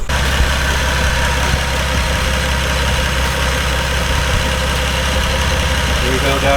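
A Toyota 2JZ-GTE engine with a newly installed pulley idles loudly up close in a steady, slightly uneven rumble, and a faint belt squeal may come through.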